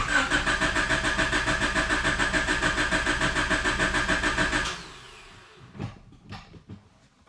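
A car engine in a workshop roars loudly with a steady, pulsing rhythm, then cuts off abruptly, leaving a few scattered clunks and knocks in a quieter room.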